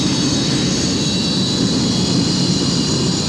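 Steady broadband jet roar from a Chilean Air Force Hawker Hunter in flight, loud and continuous throughout with no pauses or talk.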